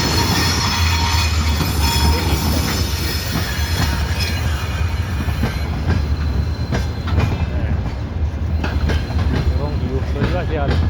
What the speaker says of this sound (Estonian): Kas see on selle keemiagrupi rong?